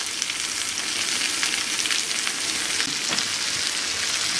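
Cabbage being stirred in a pot for vegetable soup, a steady close sizzle with soft scraping strokes running continuously throughout.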